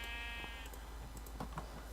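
A single sheep in the Minecraft video game gives a short, clear bleat, followed by faint clicks and a soft game tone in the background.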